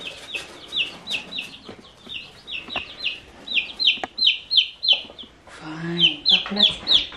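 Hens cluck in a steady, close series of short repeated calls lasting several seconds, with a brief low vocal moment partway through.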